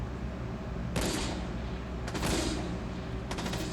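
Semi-automatic rifle fire in the Fortnite video game: three separate sharp shots spaced about a second apart, each a loud broadband crack with a short tail over a steady low game background hum.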